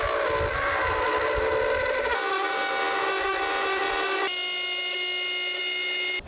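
A Dremel rotary tool cuts a hole in a plastic headlight housing with a steady, close, high-pitched whine that shifts pitch twice as the cut progresses, running continuously without speech.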